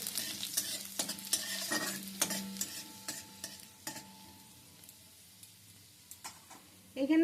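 Chopped garlic frying in oil with a dried red chilli and cumin, a spatula scraping and tapping the pan in irregular strokes over a light sizzle, quieter toward the end before a final clatter.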